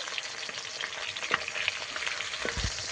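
Pieces of bhola fish fry in hot oil with a continuous close sizzling hiss, punctuated by soft pops and a few low thumps of the utensil moving them around.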